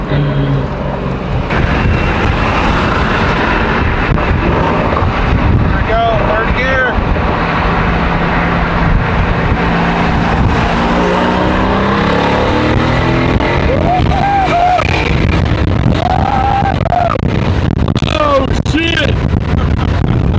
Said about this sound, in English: I hope you guys can hear the burbles.